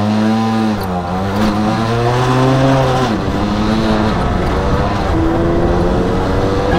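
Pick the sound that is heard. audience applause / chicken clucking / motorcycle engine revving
motorcycle engine revving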